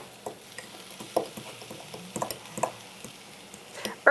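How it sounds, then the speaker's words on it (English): A fork stirs and mashes herb butter in a bowl, giving a steady run of soft scraping clicks and squishy taps, close-up with no talking. "stir it all together."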